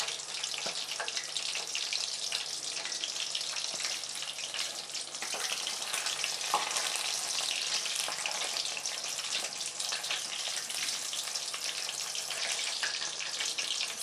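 Quail 65 pieces deep-frying in hot oil, a dense continuous bubbling hiss that stays even and moderately loud throughout with no voices.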